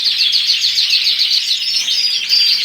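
Goldfinch being caught by hand, giving rapid, continuous high chirps and twittering calls close up, busy and excited throughout.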